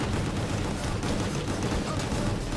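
Sustained gunfire from a character standing still and shooting in the video game Gungrave G.O.R.E, a dense, continuous barrage of loud shots and booming impacts filling the whole stretch with no pauses.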